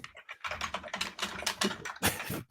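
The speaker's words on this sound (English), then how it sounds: "That is the most ferocious typing I've ever heard in my life." Ferocious, rapid typing on a computer keyboard, with a dense, close clatter of keystrokes in uneven bursts and a heavy flurry at the end.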